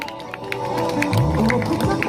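An audience claps for a pupil at an Islamic school prize-giving ceremony, loud close applause with crowd noise while an announcer's amplified voice talks over it.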